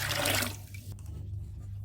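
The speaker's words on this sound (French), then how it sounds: "À ce stade, versez le reste de l'eau." Remaining water poured into a batch of bael fruit wine, a brief loud gush that quickly fades into faint trickling and low background hum.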